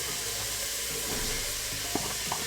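Onions, carrots and celery sizzle in a pot of oil for ghost pepper chili, a soft continuous hiss with a few light clicks and stirring knocks near the end, no talking.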